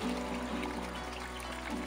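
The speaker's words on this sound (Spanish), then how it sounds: "Es agua del nacedero, ha sido canalizada con el tubo de PVC" Spring water from a mountain source pours steadily out of a PVC pipe, a continuous close trickle and splash with no talk.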